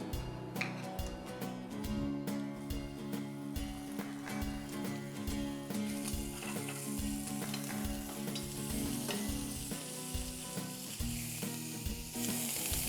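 Scallops frying traditionally in butter and oil in a pan, a steady close sizzle with regular scraping and tapping of a utensil, and faint tonal hum running underneath.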